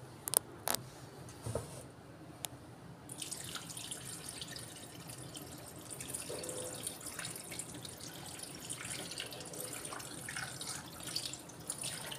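Water runs and splashes steadily into a pot, close and fairly soft, with a few sharp clicks near the start.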